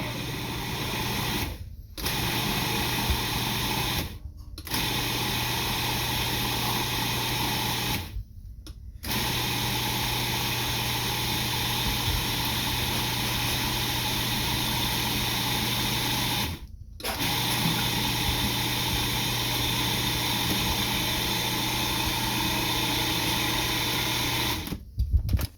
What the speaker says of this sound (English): we're going to put our food processor lid back on, and we're going to pulse it again